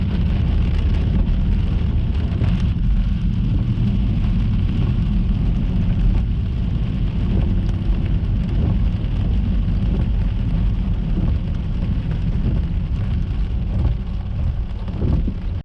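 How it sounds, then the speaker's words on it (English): Steady rain drumming on a car during a drive through Zion National Park, a dense, continuous wash with low rumbling road and engine noise underneath and no voices. "And once again, it is raining on my way out"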